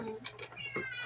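A cat meows a few short times at home around a family dinner table, with faint voices in the background.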